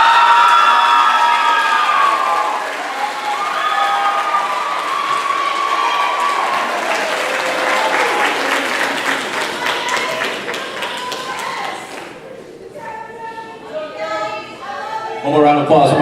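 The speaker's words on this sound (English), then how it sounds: "One more round of applause for most improved symphonic band" A band banquet audience applauds and cheers for the most improved symphonic band award, loud sustained clapping with whoops and shouts that thins out toward the end as a voice speaks over it.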